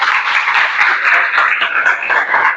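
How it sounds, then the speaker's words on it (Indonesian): A class of students claps together during a school physical education lesson, producing a dense, even wash of applause that stays loud and close throughout, with no talking over it. "Oke, tepuk tangan buat kalian semua."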